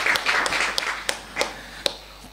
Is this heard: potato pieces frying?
no